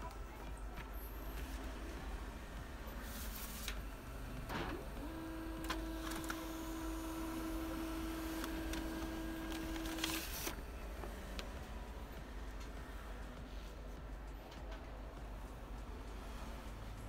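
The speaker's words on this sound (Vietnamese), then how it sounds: "bây giờ mình sẽ in test trên cái máy tính để xem là máy in có nhận" An HP LaserJet MFP M135w laser printer prints a test page, giving a steady mechanical whir with a sustained tone for several seconds and occasional clicks over a constant background hum.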